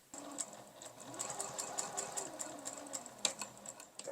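Sewing machine stitching fabric scraps into a bookmark, a close, steady mechanical whir with fast rhythmic ticking that runs evenly throughout with no voices.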